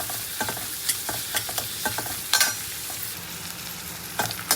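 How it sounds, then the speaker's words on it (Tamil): Onions sautéing in a pan for a one-pot matar paneer pulao, a continuous close sizzle punctuated by regular stirring clacks of a spoon against the pan, no talking. "நல்லா வெங்காயத்தை கொஞ்சம் நல்லா வதக்கிக்கணும்"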